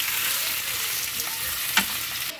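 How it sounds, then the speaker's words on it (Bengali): Plums fry in hot oil in a pan as a steady, close crackling sizzle, with a brief scrape of stirring near the end. "প্লামগুলোকে দিয়ে দেবো, দিয়ে ভালো করে এটাকে একটু নাড়তে হবে"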